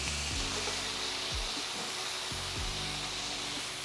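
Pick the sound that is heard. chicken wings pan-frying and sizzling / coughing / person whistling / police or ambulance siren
chicken wings pan-frying and sizzling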